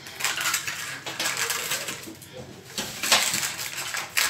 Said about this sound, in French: je taille les bords de mon papier cuisson, comme ça, avec mes ciseaux de cuisine